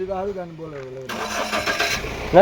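A tractor engine cranks and catches, then runs with a loud rough rumble, right after someone speaks; talking continues over the running engine.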